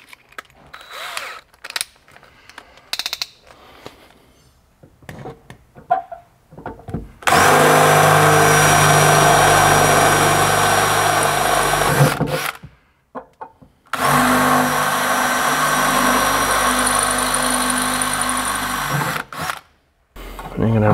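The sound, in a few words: drill enlarging a hole in a VW T3 van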